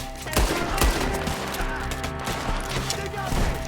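Video game shootout with gunfire, repeated shots and bursts crackling densely throughout, loud and close, with shouted voices in the mix.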